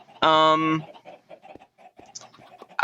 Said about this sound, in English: This is the auto chicken farm.